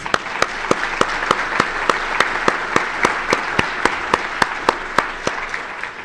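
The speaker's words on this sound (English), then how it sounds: "Can we give them a round of applause?" Applause from a conference audience thanking event sponsors, with a steady crowd patter under evenly spaced sharp claps that stand out close by, keeping a regular beat for the whole stretch.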